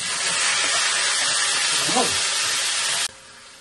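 Barbacoa meat is sautéed in a pan, giving a strong continuous sizzle and hiss that suddenly cuts out near the end, with brief faint sounds beneath.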